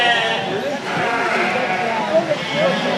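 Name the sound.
sheep bleating at livestock show sale ring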